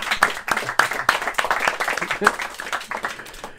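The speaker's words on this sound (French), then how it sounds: "Je pense que ça vaut une petite main d'applaudissement quand même." Small audience clapping for a retiring professor at a literary book event, scattered distinct claps over a few seconds, with talk mixed in.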